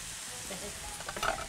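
Soft frying sizzle with a brief louder crackle near the end, close and steady, no voices.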